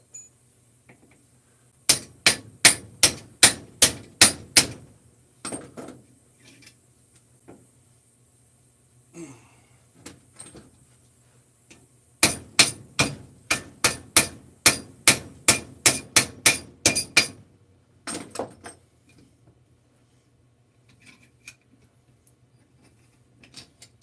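Hammer blows on a bent metal piece clamped in a bench vise, loud sharp strikes in two rapid bursts of about a dozen hits each, plus a few scattered taps, with quiet gaps between.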